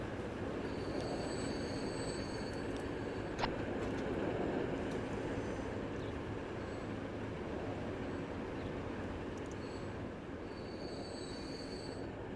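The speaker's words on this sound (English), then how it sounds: "I'll run those 3 little diesels just shunting around like that" Three small diesel locomotives shunting in the video game Transport Fever 2, with a continuous low engine rumble and rolling noise, faint high wheel squeals coming and going, and one sharp click, steady and moderately distant.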